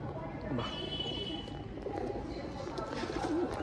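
Madrasi pigeons in a home loft give low, soft coos under a constant murmur of background noise and nearby voices.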